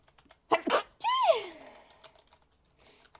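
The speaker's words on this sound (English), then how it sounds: "That sneeze though." A single loud, close sneeze with a sharp intake before it and a voiced trailing tail, while faint keyboard clicks tap in the background.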